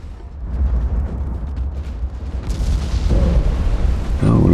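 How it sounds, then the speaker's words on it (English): A torpedo strikes a warship in the naval game Ultimate Admiral: Dreadnoughts, setting off a deep rumbling explosion that swells into a sustained roar with a fresh burst near the end, loud and close, while a voice talks faintly underneath. "Hey, we did get a torpedo hit."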